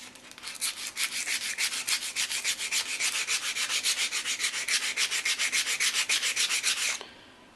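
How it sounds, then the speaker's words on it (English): A steel saw-blade kitchen knife is rubbed by hand with sandpaper in steady back-and-forth strokes, about six per second, close and clear for roughly seven seconds before it stops. "this grade of or grain of sandpaper, and when I get it closer to being done, and I'll probably go up to 300 or maybe 800 grit"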